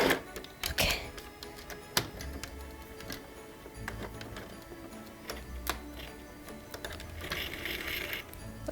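Sewing machine backstitching fabric at home, running in short bursts with clicking, ticking mechanical stitches and brief pauses, close and fairly loud with no talking.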